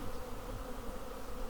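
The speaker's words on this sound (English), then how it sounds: "Good population of bees in here." A good population of honey bees buzzes steadily in an opened hive during a spring hive reversal, forming a dense, even hum at close range with no talking.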